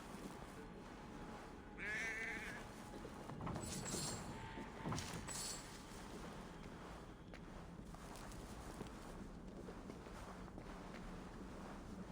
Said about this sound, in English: Is there a sheep in here?